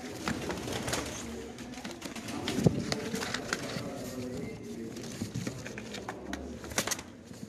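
Pigeons coo repeatedly at a bird auction, soft throaty calls scattered over a faint indoor background with some quiet human voices.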